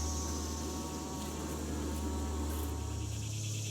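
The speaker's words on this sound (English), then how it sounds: "I did spill a little bit in the bottom and the bees are rapidly cleaning it up" Honeybees inside a hive cleaning up spilled sugar syrup, a dense, steady buzzing drone up close, continuous and even throughout with no talk.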